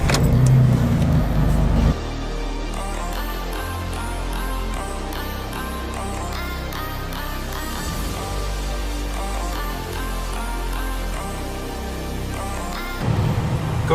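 A Jeep drives along with a steady engine and road hum, while music plays over it for the whole clip.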